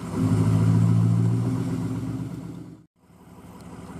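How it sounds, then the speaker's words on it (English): A four-wheeler ATV engine hums loudly and steadily up close, then briefly cuts out near the end before resuming, with no talking over it. "I'm gonna hop on the four-wheeler and go check all the corn out."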